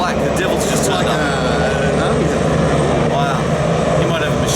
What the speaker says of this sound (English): Another helicopter. This one's all black.